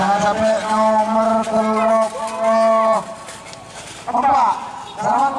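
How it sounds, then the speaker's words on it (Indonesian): Cattle lowing in long drawn-out moos over a busy outdoor background at a Karapan Sapi bull race, with a loud announcer voice and crowd noise mixed in. "Sekarang pasangan sapi nomor 40 Masakat Karman Bode Timur Salempang Putih."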